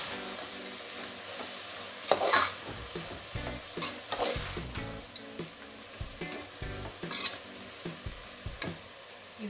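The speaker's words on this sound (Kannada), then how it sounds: "ಈಗ ಬಂದು ಮಿಕ್ಸ್ ಮಾಡೋಣ ನೀಟಾಗಿ." Spinach sambar is stirred as it fries in oil in a pan, with a steady close sizzle and repeated scraping strokes of a spoon against the pan.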